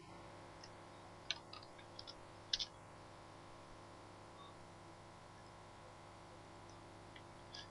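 Mouse clicks while drawing lines and angles in CAD software: a few faint, sharp clicks, some in quick pairs, scattered over a steady low background hum, with no talking.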